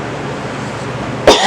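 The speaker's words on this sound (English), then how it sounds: "Excuse me, I got a cough." One short, harsh cough bursts out near the end after a stretch of quiet room noise during a podcast conversation, loud and close to the microphone.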